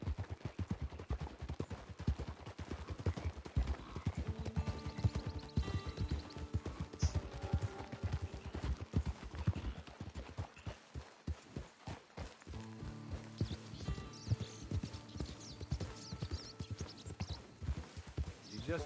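Horse hooves clip-clop steadily through an open-world PS4 game, approaching a camp, the rhythmic clopping mid-loud and close, mixed with music and voices speaking over the game sound.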